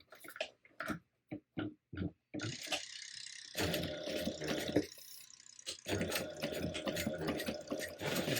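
Sewing machine backstitching at the corners of a handbag, starting with a few short separate bursts of stitching and then running in longer steady, mechanical runs, close and fairly loud with no talk.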